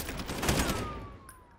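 Gunfire in the Call of Duty: Modern Warfare Warzone video game: a dense burst of rapid shots that rattles on, then gives way to a thinner tail with a faint descending whistle.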